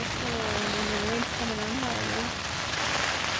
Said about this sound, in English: Getting pelted pretty good with the hail